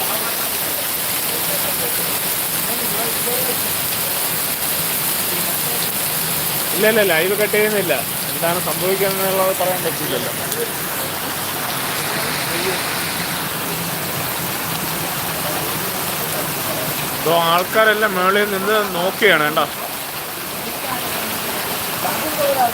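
Heavy rain and fast-rushing floodwater pour in a steady broadband roar on a Hyderabad street, continuous and close throughout, while someone talks over it in two stretches.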